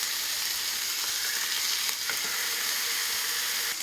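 Steak fries in a pan with butter, a loud, dense, continuous sizzle close up with a faint stir or two, no talking.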